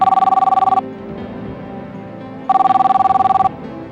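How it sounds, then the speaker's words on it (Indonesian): A telephone rings in two bursts of rapid electronic trilling, about a second each, separated by a short pause. The ringing is loud and close, with no talking over it. "Aku kan udah bilang sama kamu, kalau aku lagi kerja kamu jangan telepon-telepon aku, Ger."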